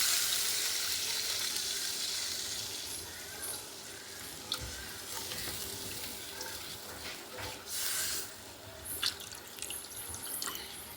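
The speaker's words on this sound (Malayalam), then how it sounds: "കുറച്ച് വെള്ളം ഒഴിക്കാം." Water poured into a pan for rava pongal, a soft steady pouring rush at first that tapers off, followed by faint kitchen clinks and a sizzle-like hiss in a quiet home kitchen.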